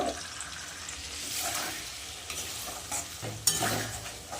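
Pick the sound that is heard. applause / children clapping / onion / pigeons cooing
onion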